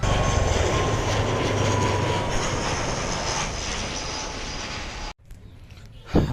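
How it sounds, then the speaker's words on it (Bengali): A Biman Bangladesh Airlines Dash 8-400 turboprop roars steadily and loudly as it approaches to land, its broad engine noise fading slightly before cutting off abruptly near the end. "বিমান বাংলাদেশ এয়ারলাইন্সের -8-400 মডেলের বিমান।"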